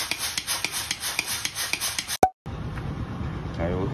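A BMW 520d F10 with a failed turbo gives off a metallic grinding and rasping, heard as a rough repeating scrape with rhythmic pulses, then a sharp click and a brief gap before a steady noisy whir returns.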